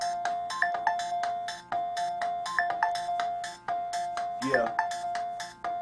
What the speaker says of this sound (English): why don't you grab that fancy keyboard?